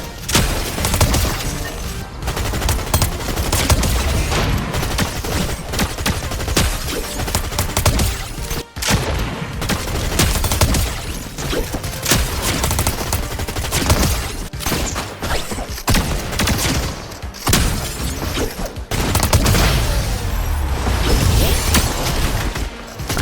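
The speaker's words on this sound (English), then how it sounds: "I found Valeria's Hyper SMG, which is honestly the worst Chapter 5 Mythic to exist" Rapid bursts of Hyper SMG gunfire from Valeria's Mythic in Fortnite Reload Chapter 5, dense and loud throughout, mixed with impacts, crashes and game effects with almost no pauses.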